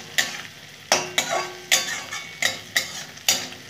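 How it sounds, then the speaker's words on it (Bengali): Onions frying lightly in a pan with coriander leaves, garlic and dried chilli, heard as a soft close sizzle broken by six sharp, evenly spaced scraping strokes of a spatula stirring the pan. "পেঁয়াজটা একটু ভাজা ভাজা করে নেবো, হালকা করে, খুব বেশি ভাজার দরকার নেই, হালকা করে ভাজা।"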